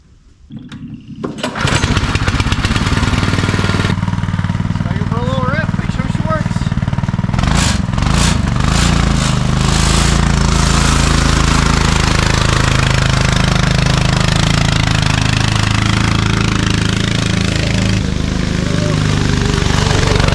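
A Scooterx Sportkart 196cc go-kart engine catches after a pull start and runs loud and close, a rough, sputtering small-engine roar with revs rising and dropping throughout.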